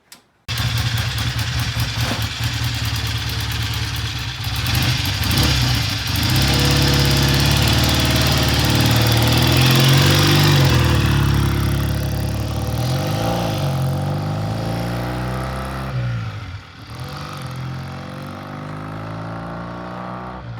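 A motorcycle that had been sitting unused starts after its clutch is cleared, then runs loud and close, its engine note rising and falling with throttle for about twenty seconds before briefly dipping and picking up again.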